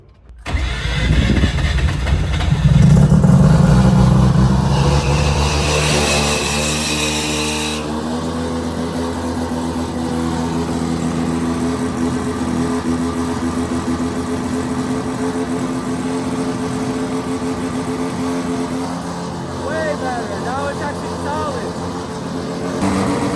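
A Mazda RX7 drift car cranks and fires up, surging loudly at first, then settling into a steady, slightly uneven idle that drones on close by for a long stretch.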